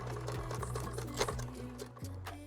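A home sewing machine running decorative stitches along a marked line, its motor humming close by in a steady whir that shifts pitch as the speed changes.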